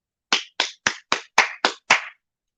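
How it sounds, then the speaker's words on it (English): Seven sharp hand claps in a steady, fairly quick rhythm, close and clear with silence around them. "I think I'm going to get a WBA hand clap for this right here."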